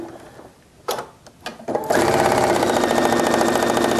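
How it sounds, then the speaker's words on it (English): After a few handling clunks, a sewing machine starts up and stitches fabric along a chalk line, settling into a loud, close, rapid and even mechanical whir. "I'm just going to stitch along the one chalk mark line"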